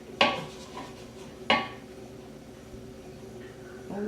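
A utensil knocks twice against a baking pan while homemade fudge mixture is spread and blended, each a sharp close clink over faint kitchen background.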